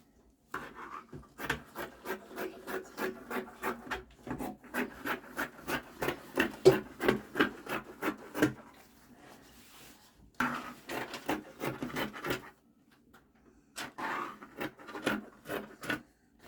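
Scissors cutting through pants fabric make a run of crisp, rhythmic snips in quick bursts with brief pauses between them, close and fairly quiet, with no talking.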